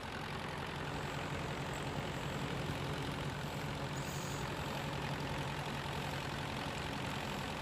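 A Komatsu PC50 excavator engine idles steadily after an overhaul, a constant low rumble with a broadband mechanical roar that holds even and unbroken throughout, close and moderately loud with no speech.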